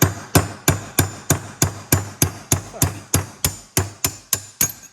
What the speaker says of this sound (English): After 2 hours of swinging that hammer